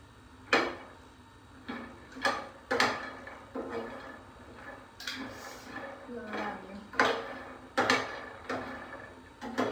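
Makhana (fox nuts) dry-roasting in a pan on low gas, stirred with a utensil that scrapes and clinks against the metal in an irregular rhythm, under a voice talking.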